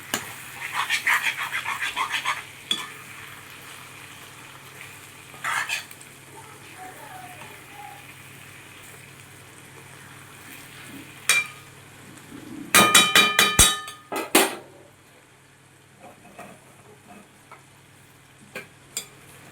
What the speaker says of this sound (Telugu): వంకాయలు ఎక్కడ కూడా విడిపోకుండా కలుపుకోవాలండి